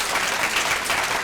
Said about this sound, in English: So please give your sponsors a big round of applause from the